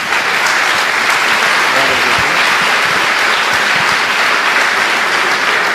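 A church congregation at an Easter service claps together in a loud, sustained wash of applause that fills the room evenly for several seconds, with faint voices mixed in.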